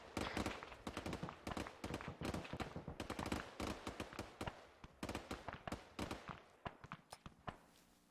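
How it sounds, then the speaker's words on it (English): Rapid bursts of gunfire-like blasts from a military video game featuring a claymore mine, dense sharp reports crackling in quick irregular succession, loud and close throughout. "advised that explosion with a claymore"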